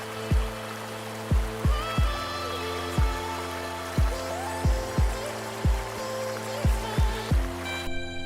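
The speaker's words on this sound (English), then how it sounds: "The waterfall coming off of Allen Brook." Waterfall on Allen Brook at the base of the Adirondack climb to Allen Mountain, a steady rushing wash of water with regular thumping footsteps over it.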